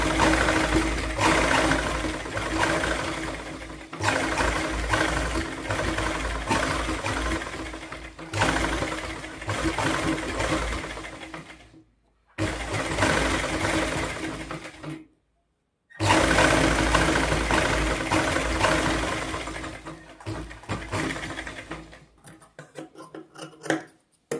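A sewing machine stitches a blouse piece in long rapid whirring runs, stopping and restarting several times with short silent pauses between bursts.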